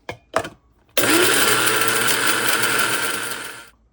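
Whole spices whirring in a small electric grinder: after a couple of short taps, the motor runs steadily at a loud, high-pitched buzz with rattling seeds for about three seconds, then winds down, with no voices.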